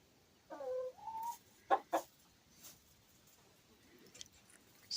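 Chickens resting on their roost give a few soft clucks and short calls, quiet and intermittent against a calm background.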